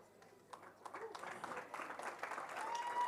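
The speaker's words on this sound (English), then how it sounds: "Can we try that round of applause one more time?" Audience applause for the podium finishers at a cycle challenge prize-giving, starting faint and scattered and building into fuller clapping over three seconds, with voices mixed in.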